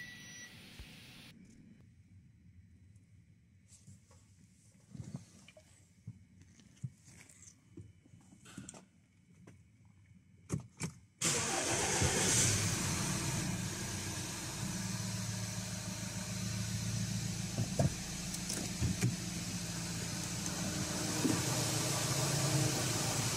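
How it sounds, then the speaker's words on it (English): A car engine cranks and fires up after the fuel pump is primed with a scan tool, then settles into a steady, fairly loud idle that runs on to the end, preceded by a quiet stretch of faint clicks and knocks. "the engine started very good"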